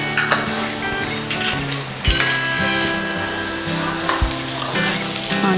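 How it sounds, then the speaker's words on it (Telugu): Chopped onions sizzle steadily in two tablespoons of hot oil in a pan for Indian-style macaroni pasta, a loud continuous crackle with occasional stirring, over soft background music. "ఆనియన్స్ని కొంచెం ఫ్రై కానిద్దాము"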